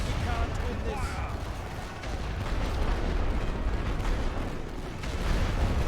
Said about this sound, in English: Hopefully our rifle fire is enough to prevent these guys from getting to the trenches